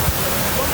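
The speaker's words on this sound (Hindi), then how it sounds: "मेरे पीछे आप देख सकते हैं कि कुमराट वाटरफॉल्स है।" Steady, dense roar of the Kumrat waterfall as glacier meltwater falls, loud and continuous, with no break across the short stretch.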